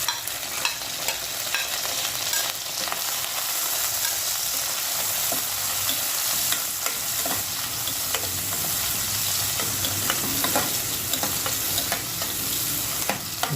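Onion fries in a hot pan on a stove with a loud, continuous sizzle and hiss, broken by occasional faint crackles and stirring scrapes.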